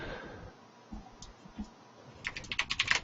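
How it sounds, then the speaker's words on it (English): Typing on a computer keyboard: a few scattered soft clicks at first, then a quick burst of crisp, close keystrokes near the end over faint room noise. "you can't talk when you're typing"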